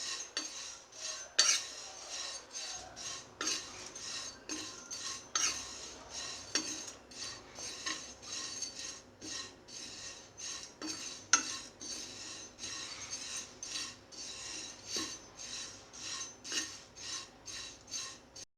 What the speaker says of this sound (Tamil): இந்த இதில் பாத்திரத்தில் போட்டு வறுக்கவும் நல்ல மொறுப்பாக வந்துடும்